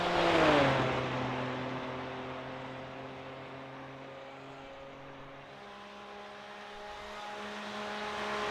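GT3 race car accelerating at Texas Motor Speedway, a loud rising engine note that peaks early then settles into a steady drone, mid-distance with no talk.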